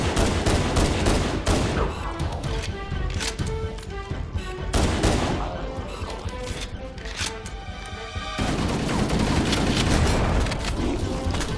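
Repeated gunfire in Halo Anniversary's Library mission, a rapid run of sharp shots and booms against the Flood, dense bursts broken by short gaps, with music and game effects underneath.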